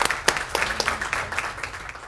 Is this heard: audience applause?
yes